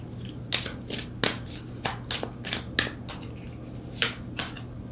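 Tarot cards being shuffled and drawn by hand, with a string of quick crisp riffles and snaps at an uneven pace, close and fairly quiet against a faint steady hum, no talking.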